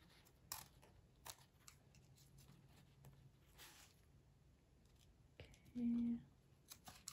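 Scissors snipping paper while making a no-sew junk journal, several faint isolated snips with soft paper handling between them, close and quiet.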